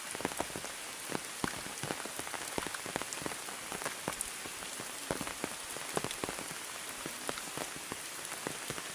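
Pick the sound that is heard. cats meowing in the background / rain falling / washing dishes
rain falling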